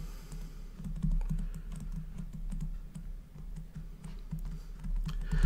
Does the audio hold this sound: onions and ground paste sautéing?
no